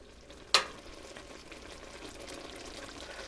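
Summer berry jam is stirred in a pot as its boil settles, a sharp clack early on followed by a steady soft bubbling, scraping hiss with no talk.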